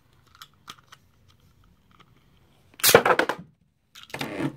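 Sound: launching Meteo L-Drago Beyblade with launcher

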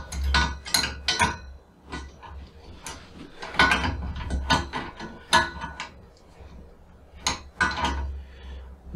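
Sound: tightening a nut with an adjustable wrench

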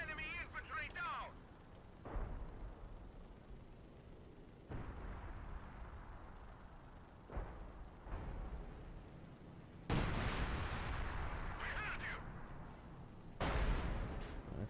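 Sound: artillery firing in video game Company of Heroes 2

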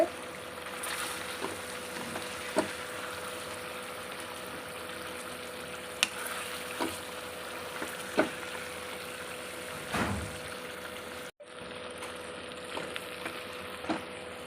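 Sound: chicken with masala frying and being stirred in pan

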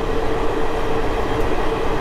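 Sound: Sainagar Shirdi–Kakinada express train running at speed

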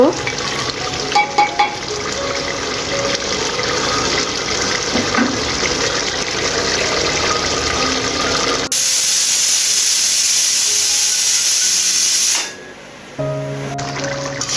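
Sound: pressure cooker steaming and whistling while cooking tripe

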